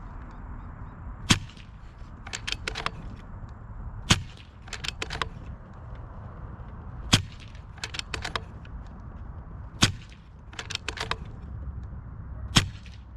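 Gunshots fired through a 3D-printed PLA filament moderator, sharp suppressed cracks spaced out across the clip, some single and some in quick clusters of two or three, each followed by faint clicks over low background noise.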